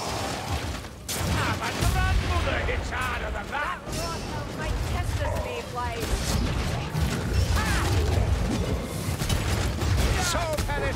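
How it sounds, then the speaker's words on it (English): Rapid gunfire rattles through a chaotic Warhammer Vermintide battle as the dwarf ally Helgi shoots, the bursts packed with clanks and booms beneath shouting voices. "Helgi, stop shooting me!"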